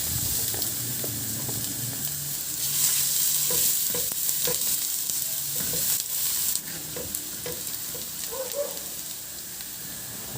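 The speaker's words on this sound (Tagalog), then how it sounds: "Magpainit na ako ng mantika at igisa ko na rin yung bawang." Garlic sautéing in hot cooking oil gives a steady, broadband sizzle throughout, with occasional stirring scrapes and clinks of a utensil in the pan, close and fairly loud, with no talking.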